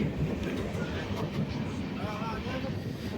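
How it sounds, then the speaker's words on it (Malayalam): Low rumbling of the Madurai Express passenger train approaching a station, with faint rhythmic clatter, fairly steady throughout, with some background voices and ambient murmur. "ഇതേ ഒരു ട്രെയിൻ വരുന്നുണ്ടോ അത് നമ്മുടെ train number one six three to eight Madurai express ആണ്"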